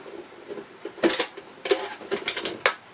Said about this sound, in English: now I always undo the hardest to reach screws first